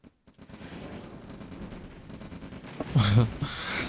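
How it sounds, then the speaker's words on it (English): Battle gunfire rattles in a Red Alert real-time strategy game, a continuous crackle of small-arms and distant explosions beneath steady game noise, swelling into a louder burst near the end. "Oh no, he's under fire now."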